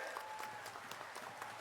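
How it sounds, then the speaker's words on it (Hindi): Crowd applause at an outdoor Lok Sabha campaign rally in Shahdol, Madhya Pradesh, welcoming Rahul Gandhi: a dense, continuous wash of clapping from many people, steady throughout and heard at a distance. "जरा जोरदार तालियों से इस नगरी पर राहुल गांधी जी का स्वागत करें"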